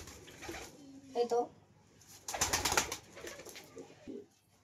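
Pigeons in a loft give low, soft coos between stretches of someone talking nearby, with a brief rustle or flutter partway through.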